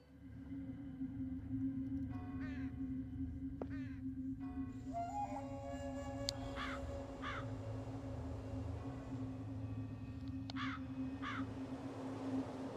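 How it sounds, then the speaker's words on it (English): Large black crows caw in the video game The Lost Crown. Several separate harsh caws sound over a steady low ambient hum, some near and some a little farther off, with no talking. "Large black crows."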